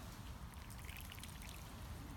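Rainwater collected in the fork of a poorly attached tree branch pours out as someone shakes the tree, a steady soft trickling and splashing stream heard continuously and fairly faint, with no talk.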